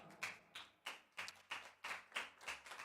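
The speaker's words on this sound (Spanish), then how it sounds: "Denle un fuerte aplauso al Señor, mis amados hermanos." A church congregation clapping for the Lord, a run of about eight fairly even claps, quiet and somewhat distant, with no voices over them.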